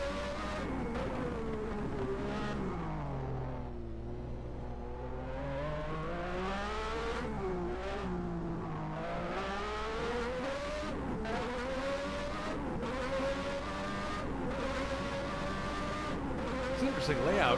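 A 1991 Formula 1 car with a Lamborghini V12 racing in the Monaco Grand Prix, its high-pitched engine whining and rising and falling through gear changes at close range, with talk underneath throughout.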